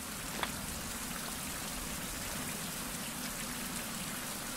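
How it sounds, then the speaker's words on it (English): Steady rain falling in the survival game Fountain of Youth, a faint even hiss of drops pattering on surfaces with one brief tap near the start, no talk. "And the rain has started."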